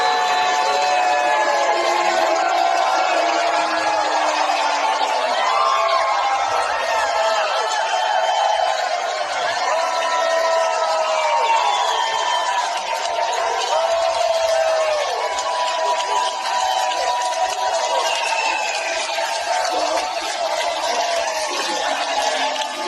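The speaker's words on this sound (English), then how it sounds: "Trump being booed live at a performance of Les Mis." A theater audience boos Donald Trump at a live Les Misérables performance: a dense, loud, sustained roar of many voices fills the whole stretch without letup.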